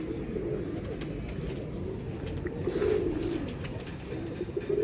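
Pigeons coo in a low, continuous murmur at a Punjabi pigeon-keeping gathering, several birds overlapping steadily at close range with faint chirps above, and no talking.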